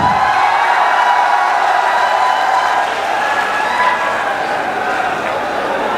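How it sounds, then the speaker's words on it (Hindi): Applause and cheering from a large crowd at a Samajwadi Party political rally in Unnao, welcoming a speaker; dense, sustained clapping with whoops, steady and loud throughout. "क्या आप लोग सब जोरदार तालियों से उनका स्वागत कर सकते हैं?"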